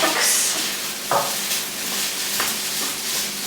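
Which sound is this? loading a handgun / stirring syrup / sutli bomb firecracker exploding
stirring syrup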